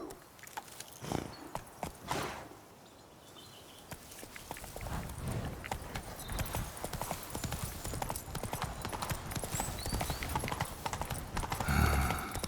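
Roach the horse gallops in The Witcher 3: Wild Hunt, a rapid rhythmic clip-clop of hooves that runs nearly throughout and grows denser and louder toward the end, with a short quieter lull early on.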